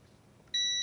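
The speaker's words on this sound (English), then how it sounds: "If you hear these connect, you know, these two leads, they connect, it makes a" A multimeter in continuity mode gives a single sharp, steady electronic beep as its two test leads touch, starting abruptly after a quiet moment and sounding close and clear.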